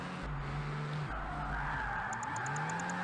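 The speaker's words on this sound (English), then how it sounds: "you get like a muffled effect almost from revving the engine in the tunnel" Engine revving and accelerating inside a tunnel in the racing game Project Gotham Racing, a muffled, steady car drone with skidding tyres, ending in a run of rapid high clicks.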